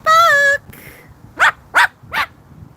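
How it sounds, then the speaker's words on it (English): A dog barks three times in a row on an evening patio, sharp and fairly close, after a brief high whistle-like tone. "we're getting barks"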